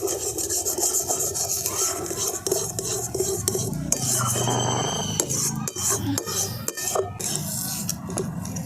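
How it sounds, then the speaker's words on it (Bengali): Thick pea paste stirred and fried in a kadai with a spoon, a continuous scraping, rasping rub against the metal pan, close and steady, with brief clinks and a soft sizzle underneath. "সব কিছু একসাথে ভালো করে মিশিয়ে একটু ভাজা ভাজা করে নিচ্ছি।"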